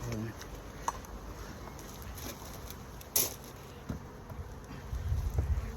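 Honeybees buzzing around an open hive during a colony inspection, a soft steady hum close by with a few light knocks and clicks of the hive frames.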